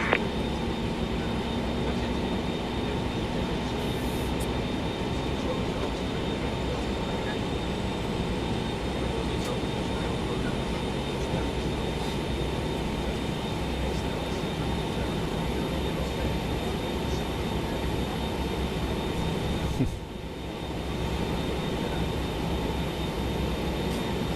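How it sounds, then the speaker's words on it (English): A BAe 146-200 jet's engines starting in Microsoft Flight Simulator 2020 make a steady, even broadband hum and whine that holds constant throughout, with a brief dip near the end. "Let's see if we can hear those engines, although they were notoriously quiet."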